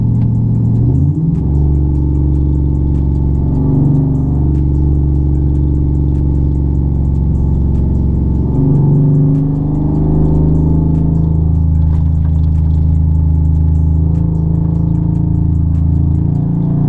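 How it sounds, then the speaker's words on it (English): Tuned car held in first gear for a 30 roll, its engine droning loud and steady close to the microphone and rising through strong acceleration, with brief shifts in pitch partway through and no talking. "Drop into first gear."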